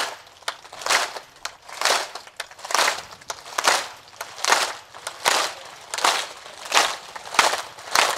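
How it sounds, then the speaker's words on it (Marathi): An audience at a Marathi kirtan claps in the flat-palmed chapati style, about a dozen rhythmic swelling bursts of crinkly, rustling hand slaps, steady and mid-distance, without talk. "चपात्याच्या टाळ्या थोड्या घाईन होत्या."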